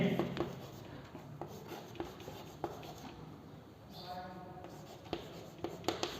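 A pen scratches across paper in short strokes while a hand-written business letter is composed, faint and close, with someone speaking over it throughout.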